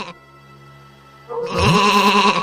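Sheep bleating in an animated Hindi folk story about a shepherd boy and a wolf, a loud wavering bleat rising after a quieter stretch of background tone.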